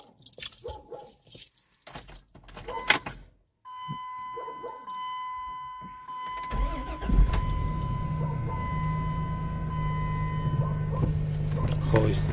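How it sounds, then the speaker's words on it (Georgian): A car engine cranks and catches on a farm morning, then settles into a steady loud idle for several seconds, after earlier clicks and handling noises with a dog and jangling keys in the mix. "წავედით, დავქოქოთ მანქანა და გავუდგეთ ფერმისკენ გზას."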